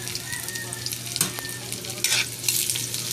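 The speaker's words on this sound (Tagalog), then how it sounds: "Gigisayin na natin ang luya, bawang, at sibuyas." Ginger, garlic and onion sauté in a pan, a close, steady sizzle broken by a few scraping stirs of a utensil.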